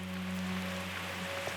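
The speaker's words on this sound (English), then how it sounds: "It is a bit mind-boggling that you can have this much rain for so long, it just keeps coming." Heavy, steady rain pours down on a remote Pacific island, a dense continuous hiss with no break, with a low steady hum underneath and no voices.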